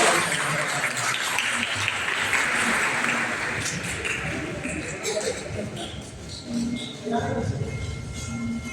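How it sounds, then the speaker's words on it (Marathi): A crowd applauds continuously and loudly at a religious gathering and ceremony, a dense clatter of clapping that stays steady throughout. "सर्वांनी एकदा जोरदार टाळ्या वाजवा"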